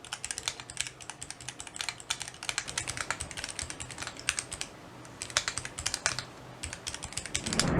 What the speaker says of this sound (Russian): если я набираю текст,